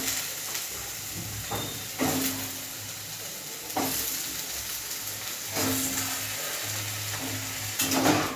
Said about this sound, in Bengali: চিংড়ি মাছটা আমি বেশি ভাজলাম না,